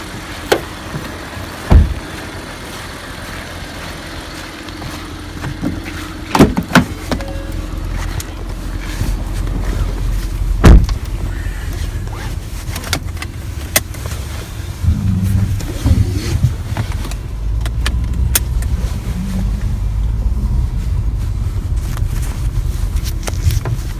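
A 2011 Ford Taurus SHO with a V6 engine and all-wheel drive rolls along on a test drive, a steady low engine and road rumble from inside the cabin, with scattered knocks and clicks.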